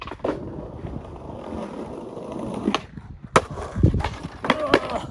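A skateboard rolling on pavement, wheels rumbling steadily, then a sharp clack and scrape as the board stops short from wheel bite during a trick attempt outdoors with some wind noise.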